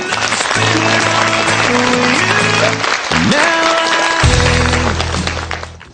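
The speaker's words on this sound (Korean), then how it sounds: "탈락한 숙명여고에게 위로의 박수 부탁드립니다" Studio audience at a Korean high school quiz show applauding the eliminated girls' high school team, broad steady clapping mixed with sustained musical tones and a tonal sweep, loud and close throughout, fading at the end.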